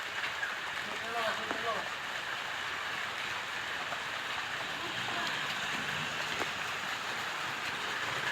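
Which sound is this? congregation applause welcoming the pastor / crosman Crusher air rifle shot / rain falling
rain falling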